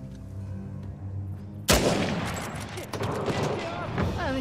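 Gunfire in the video game Uncharted: The Lost Legacy, a sudden loud burst of shots breaking in over a musical game score and continuing as a dense volley, with a voice talking over it.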